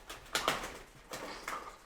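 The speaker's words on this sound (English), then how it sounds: "I'll try and save this bird." A pigeon inside an abandoned pig slaughterhouse gives several soft, close cooing and fluttering calls in short bursts, with quiet gaps between them.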